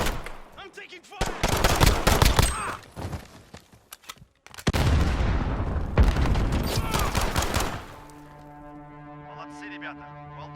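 Gunfire in Call of Duty: Modern Warfare: loud bursts of rapid automatic shots and blasts in clusters, broken by short pauses, followed by a sustained low horn-like tone, with voices shouting amid the shooting.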